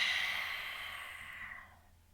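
A long, breathy exhale through an open mouth during a yoga core flow, loud at first and fading steadily over about two seconds, heard alone without talk.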